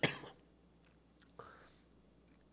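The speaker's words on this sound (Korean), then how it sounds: "제가 아직 감기가 덜 나서 기침을 좀 하고 있습니다" A single sharp cough from a preacher with a cold bursts out at the start, followed by faint breathy sounds and a quiet click, in an otherwise hushed room.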